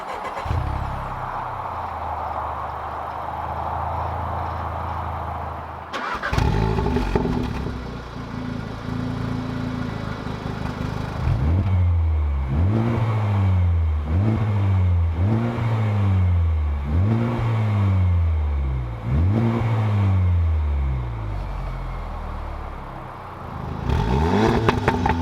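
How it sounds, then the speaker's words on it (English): VW Golf R and Honda Civic Type R hot hatch engines crank and fire up after a low idle rumble, then rev hard in a steady series of rising and falling bursts, loud and close, with no talk. "Let's fire them up and see which one's louder."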